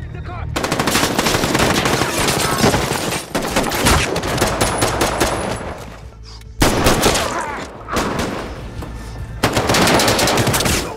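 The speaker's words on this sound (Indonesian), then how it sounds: "Disinilah adegan tembak-menembak yang tegang terjadi." Rapid bursts of machine gun fire in a film shootout between bank robbers and police rattle loud and close, broken by short pauses, with occasional single shots between the volleys.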